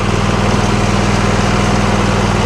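A Husqvarna YTH24K48 lawn tractor driving forward, its engine a loud, close, steady throbbing drone with a continuous rough mechanical roar and no pauses.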